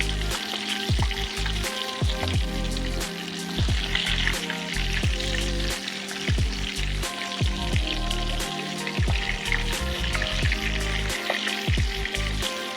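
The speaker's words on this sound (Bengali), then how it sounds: "এবার একই পদ্ধতিতে আবারও ভাজতে থাকবো বেশ লাল লাল করে।" Chicken keema chamcham fry in hot oil with a dense, steady crackling sizzle that sounds like rain, while pieces are occasionally turned with soft clicks.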